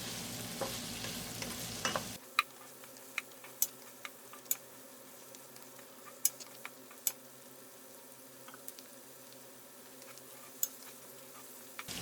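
Mushrooms tipped into a pan with butter and garlic, giving a brief loud rush for about two seconds before settling into a soft, steady sizzle broken by scattered sharp pops and clicks, with no talk.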